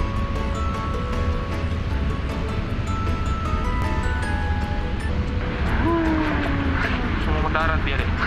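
A steady propeller engine drone fills the clip, rising and shifting in pitch as a small Citilink toy plane circles nearby, with voices chattering underneath.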